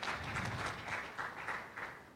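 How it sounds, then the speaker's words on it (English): Audience applauding at a panel on creative economy financing, a faint, distant patter of clapping rising and falling in soft waves throughout. "A round of applause, please, for Ayeta."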